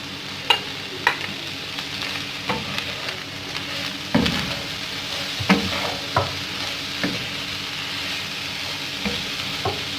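Chopped chicken with capsicum and tomato sizzles in a hot pan as a spoon scrapes and stirs it in irregular clacks and scrapes, close and clear, with no voices.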